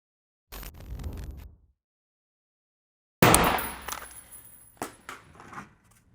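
Rifle shots fired with M193 ammunition through a directional flash hider, one burst of sharp reports, then a pause of silence, then a loud crack followed by several more spaced shots and echoing tails, close by.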